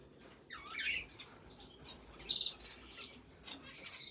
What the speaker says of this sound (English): Here we got some Fife's Canary.